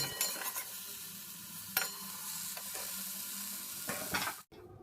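Cauliflower pieces fry in a small amount of oil in a pan, giving a steady close sizzle broken by scraping stirring clatters, before cutting off abruptly near the end.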